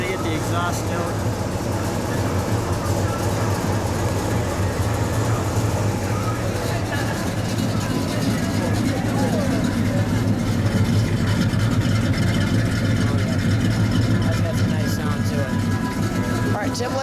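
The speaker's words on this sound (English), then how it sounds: "I'm gonna get the exhaust note." A 1973 Pontiac GTO with a 455 V8 rumbles at a steady idle through its exhaust, a deep, continuous throb close by, with faint voices mixed in.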